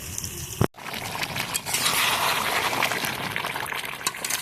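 Mutton curry cooks in a pot with ground chilli, onion, ginger, tomato and garlic paste, giving a steady close bubbling and simmering hiss after a brief clatter at the start.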